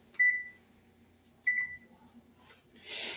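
A kitchen oven gives two short electronic beeps about a second apart while being set to 350 degrees for baking banana bread, followed by a faint rustle.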